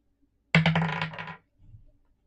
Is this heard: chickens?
no